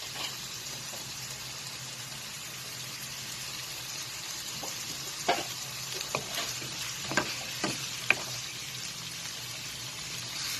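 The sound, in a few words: baby squid simmering in olive oil and garlic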